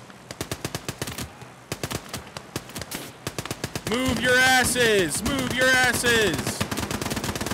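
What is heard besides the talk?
gunfire in the video game Gates of Hell: Ostfront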